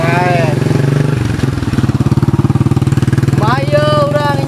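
A motorcycle engine runs steadily throughout with a throbbing low idle, while voices talk over it in short bursts at the start and end.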